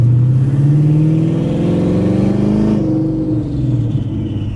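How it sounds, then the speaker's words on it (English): A 1,000 hp turbocharged Ford Mustang revs hard through a loud exhaust, a deep rising engine roar close by that drops off near the end, with no talking. "the turbo noises are awesome, but the exhaust is a little loud for just normal daily driving"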